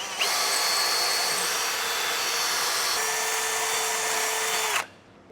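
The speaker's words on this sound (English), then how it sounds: "I'll start with a smaller drill bit and I'll go up to a bigger one" A power drill whines at steady high speed for several seconds, drilling a hole for a self-tapping screw during a tow brake system install, pitch dipping slightly midway, then stops abruptly, leaving near silence.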